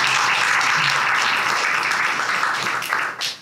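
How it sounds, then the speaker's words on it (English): Applause from an audience greeting a speaker at a State of the States property market event, a steady wash of clapping that holds for about three seconds before fading out. "So put your hands together for Simon Harris"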